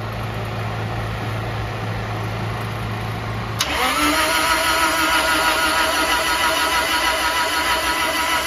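Rear engine of a twin-engine Honda CRX cranking over with the key off during a mechanical inspection: a steady churning drone that changes abruptly partway through into a louder, even whir that carries on to the end.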